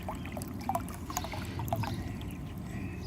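Water flowing through a diverter on a homemade pool heater: a steady, close rushing and gurgling flow with scattered splashy trickles, continuous throughout with no voices.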